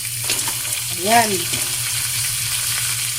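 Crabs (alimasag) dropped into a hot pan for spicy coconut-milk cooking, giving a steady sizzle and frying hiss throughout, with a brief voice speaking over it near the middle.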